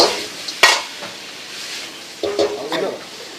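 Fried lotus stem chips being tossed through sauce in a pan at a veg cafe, with a faint sizzle under scattered clanks and scrapes of metal on the pan, close by.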